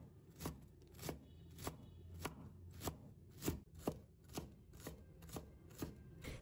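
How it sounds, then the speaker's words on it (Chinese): A knife chops softened dumpling wrappers into small dice on a cutting board, about a dozen crisp, evenly spaced strikes close by, with no talk. "然后再切成小丁"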